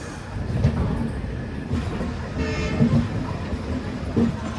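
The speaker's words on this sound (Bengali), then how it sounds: "দু মিনিট লেটে আমাদের ট্রেন হাওড়া থেকে ছেড়ে দিল" Kulik Express 13053 passenger train pulling out of Howrah station on its run to Radhikapur, giving a steady close rolling rumble with a few sharp wheel clacks over the rail joints and no voices.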